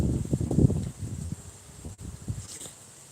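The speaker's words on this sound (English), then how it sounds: "It is a bit windy." Gusts of wind buffet the microphone in low rumbling bursts, strongest early on before easing to a softer outdoor rustle.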